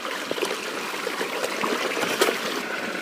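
Water rinses a gold sluice box mat at a prospecting claim, a steady close splashing trickle with small irregular spatters and drips running throughout.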